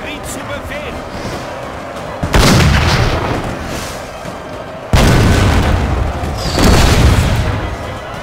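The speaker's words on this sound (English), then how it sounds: "stand in front of a cannon firing canister in your direction" Cannon artillery fire booms in the Napoleon: Total War video game, two loud heavy blasts a few seconds apart with rumbling tails over continuous battle noise while someone talks.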